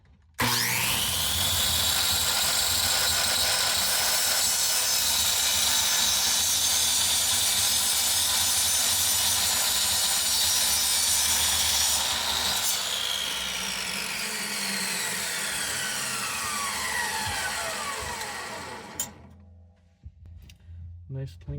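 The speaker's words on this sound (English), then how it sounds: "cutting aluminum on the chop saw with a good blade just seems" A chop saw with a good blade cuts through black aluminum T-slot channel for a homemade roof rack, a loud sustained high-pitched shriek for about eighteen seconds that winds down as the blade spins to a stop, followed by quiet.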